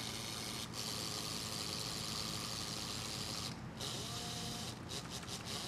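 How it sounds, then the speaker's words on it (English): A small wigglebot motor spins continuously with a buzzy, rattling whir, running faster with less chattering, at moderate level, with a few brief dropouts near the end. "That's this motor. You can hear it spinning faster without as much chattering."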